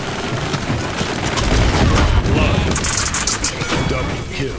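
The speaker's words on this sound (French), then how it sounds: "parce que tu peux mitrailler genre avec" Ruckus, a character in the video game Paladins, fires his machine guns in a sustained, loud rattling burst lasting several seconds, with rapid impacts layered over game noise.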